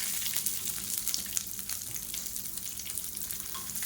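Diced onion sautéing in hot oil in a pan, a steady close sizzle with soft stirring scrapes throughout, no voices.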